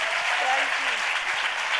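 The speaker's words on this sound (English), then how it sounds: "Can we please give her a big round of applause?" Audience applause at a FLO Chennai event with Farah Khan, a dense, steady wash of clapping from a crowd that fills the short moment evenly.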